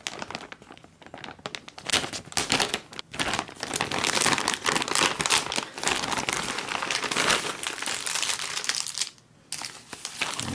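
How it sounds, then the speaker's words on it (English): Packaging of a 2018 British single meal ration pack being cut open, loud continuous crinkling and tearing of plastic film close by, with rustling bursts and a brief pause near the end. "we're going to have to cut this one open"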